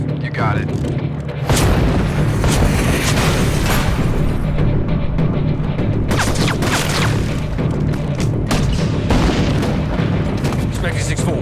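Heavy booms from gunship fire pounding barracks in a shooter video game roll in one after another over continuous rumbling battle noise, with a short voice reply in the mix.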